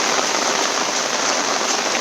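Torrential monsoon rain in the Konkan countryside makes a loud, steady wash of hiss close by, continuous until it cuts off abruptly at the end.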